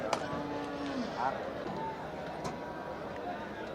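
A bovine moo rises briefly amid the din of a busy cattle market at Melapalayam, with people talking loudly nearby throughout.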